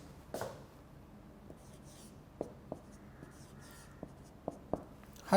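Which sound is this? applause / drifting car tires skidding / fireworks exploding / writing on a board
writing on a board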